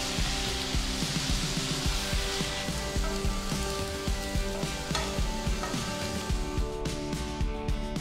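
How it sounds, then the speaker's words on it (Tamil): Potato cubes fry in hot oil in a pan, producing a continuous dense sizzle and crackle throughout, close and even in loudness with no voices. "இந்த கிழங்க எண்ணெயில சேர்த்து எல்லா பக்கமும் பொன்னிறமா வர வரைக்கும் நல்லா ஃப்ரை பண்ணி எடுத்துக்கலாம்."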